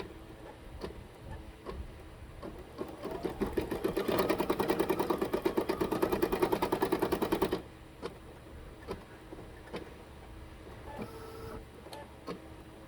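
Embroidery machine stitching a rose design, a rapid rhythmic clatter of needle strokes that builds from about three seconds, runs steadily for roughly four seconds and then stops, followed by scattered clicks and taps nearby.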